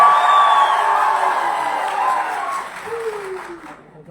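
A seminar audience at ITO in Delhi claps loudly, mixed with cheering, whoops and crowd voices, and the noise gradually fades over about four seconds.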